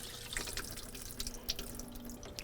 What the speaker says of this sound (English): empty the water pan by taking the water valve, the water cap off, allowing it to completely drain